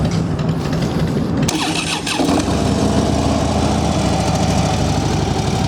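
A Harley-Davidson Dyna Wide Glide FXDWG motorcycle with low mileage cranks and fires up, the starter whir giving way to a loud, steady idle up close.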